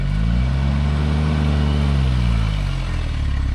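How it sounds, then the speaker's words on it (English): A Suzuki Jimny engine held at full throttle while the vehicle climbs a steep incline, a loud, close, sustained low roar with a steady rumbling drone and no clear talk. "Oh, that's full throttle."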